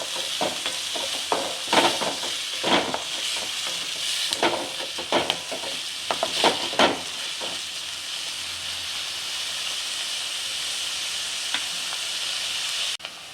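Sliced onions fry in a pan, giving a steady, close hiss with intermittent stirring scrapes and rattles during the first half, then settling into an even sizzle with no talking.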